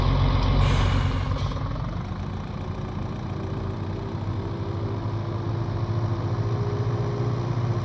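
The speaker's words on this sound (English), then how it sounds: "Get hit by a truck." A truck in Farming Simulator 19 rumbles past close by with a steady low engine drone, a brief hiss near the start, then settles into a continuous idling hum with no talking.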